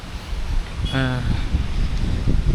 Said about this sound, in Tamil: இங்கே பயங்கரமாக காற்றடிக்குது